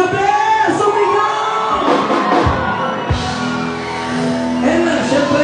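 A concert crowd yells, whoops and cheers loudly at a live show of OPM hit covers, the shouting swelling in waves with a voice calling out over the noise.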